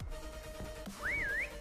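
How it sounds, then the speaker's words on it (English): A dog whistle in Call of Duty Modern Warfare Remastered rises and wavers as a single clear, high, sliding tone lasting about half a second over faint background noise. "There's dog whistles on our position too, Max, so we're fucked."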